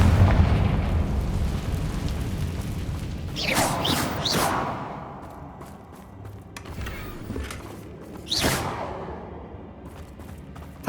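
Confringo fire spell in Hogwarts Legacy, loud rumbling blasts and crackling bursts amid game ambience, with two sharp explosive hits separated by a quieter stretch.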